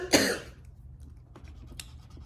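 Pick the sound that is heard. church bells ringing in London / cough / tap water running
cough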